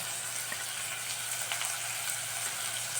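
Tomatoes sauté in a pan with salt, giving a steady, soft, close sizzle with a low hum beneath, alone without voices.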